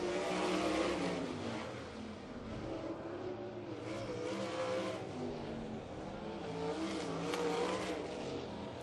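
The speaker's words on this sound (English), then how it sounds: "You could hear the misfire as he went down the front stretch." A 360 sprint car engine roars past at a distance during time trials, its note uneven and stuttering from a misfire, with crowd-like background wash.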